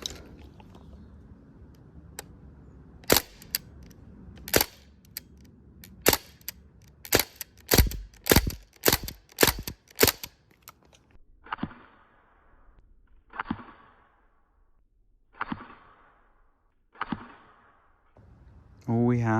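A Crosman R1 CO2-powered air rifle fires steel BBs in a series of sharp cracks, some widely spaced and then a quicker run of shots, followed by fainter, softer pops, all heard close with no talking.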